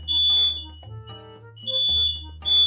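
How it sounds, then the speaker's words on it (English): Smoke alarm going off in a kitchen while carnitas cook and begin to burn, sounding in loud repeated shrill bursts with short gaps between them, close by, with no talking over it. "that's where the fire alarm's coming from"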